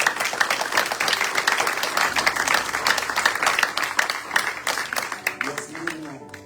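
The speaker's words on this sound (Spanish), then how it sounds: "Dale un aplauso al Señor." A church congregation claps and applauds continuously during a Spanish-language sermon, a dense wash of many hands, with voices mixed in beneath the clapping.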